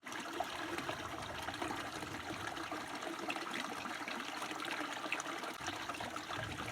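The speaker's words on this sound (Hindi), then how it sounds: "शफाफ पानी, ये पहाड़ों में ऊपर से आ रहा है।" Clear, cold water flows down from the mountains at the Pachran waterfall near Karachi, making a steady, continuous rushing and trickling wash at a moderate level, with no talking.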